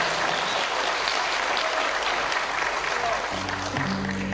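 An audience at a Turkish folk minstrel commemoration event claps steadily in a dense, loud wash of applause; near the end a faint tonal hum enters beneath it.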